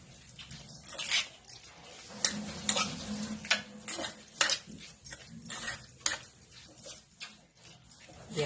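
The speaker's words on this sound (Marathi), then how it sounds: "मिश्रण चांगलं हलवून" A spoon stirs a tomato salad (koshimbir) with chopped coriander in a bowl, producing close, soft scraping and clinking strokes in an irregular rhythm.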